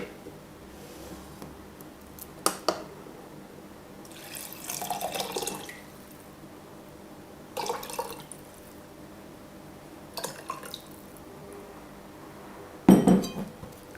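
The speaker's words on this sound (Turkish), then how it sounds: "Temiz bir kavanoz aldım tekrar. Üzümleri içine aktaracağım. Üzerine 300 ml su katacağım." Grapes tumble into a clean glass jar with light clinks against the glass, followed by bursts of water poured in, ending with a sharper knock as the jar is handled; no speech.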